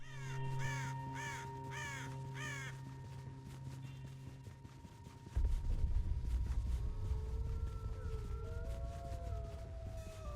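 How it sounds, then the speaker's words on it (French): Several loud crow caws in a horror-themed video game ring out in a quick series, then give way to a low droning rumble with a wailing siren-like tone. "des sons de corbeaux"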